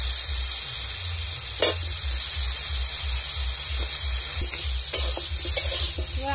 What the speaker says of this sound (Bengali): এবার আলুটাকে ভালো করে একটু ভেজে নেব